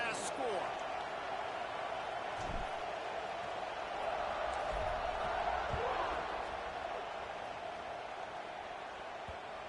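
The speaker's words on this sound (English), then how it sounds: "this crowd is buzzing after that last score" A stadium crowd in a Madden football video game keeps up a steady, distant roar and murmur after a score, with a few soft thumps and a voice faintly under the crowd noise.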